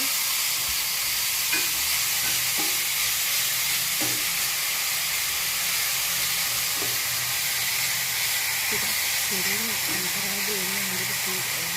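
Shredded jackfruit mallum hisses steadily in a pan as it is stirred and fried, a constant close sizzle with occasional soft scrapes of the spoon throughout.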